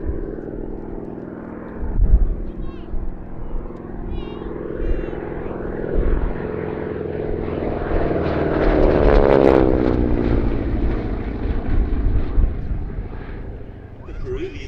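A North American AT-6 Texan propeller airplane drones overhead at Shuttleworth, its engine building to a loud, throbbing roar as it passes close, then slowly fading away.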